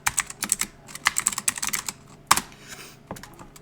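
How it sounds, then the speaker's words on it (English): Someone types on a computer keyboard: a short burst of crisp, close key taps in an irregular rhythm, with a heavier stroke partway through and a few final clicks. "If you type in CTOR and then press tab on your keyboard"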